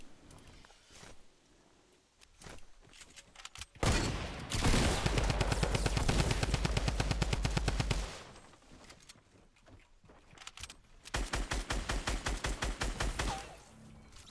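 Two long bursts of rapid automatic gunfire ring out during a video game shootout on a mountaintop, the first a sustained loud volley and the second a shorter one after a lull filled with scattered single shots.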